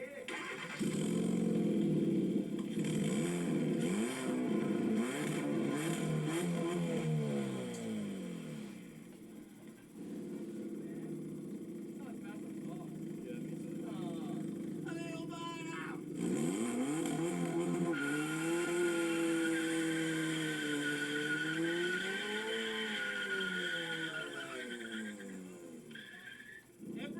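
A turbocharged Kia Soul running nitrous cold-starts and revs, its engine note rising and falling in sweeping pulls, with people talking excitedly over it throughout.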